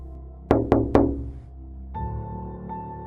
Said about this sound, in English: At 12:18, something tapped the bedroom glass.